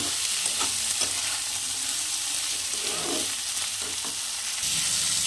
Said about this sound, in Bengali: এর মধ্যে দিয়ে দেব পরিমাণ মতো লবণ আর পরিমাণ মতো হলুদ গুঁড়ো দিয়ে দু থেকে তিন মিনিট ভালো করে একটু ডাটাটাকে কষিয়ে নিতে হবে